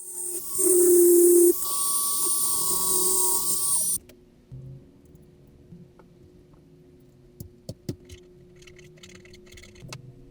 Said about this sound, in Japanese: 印刷を待つ間、タイヤを薄く加工します。